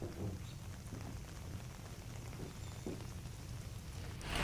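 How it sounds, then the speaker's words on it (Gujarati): Heavy monsoon rain falls in a stormy downpour with strong wind, heard as a faint, continuous hiss of rain that swells slightly at the end. "ભારે પવન સાથે તોફાની વરસાદ વરસતા લોકો અટવાયા છે."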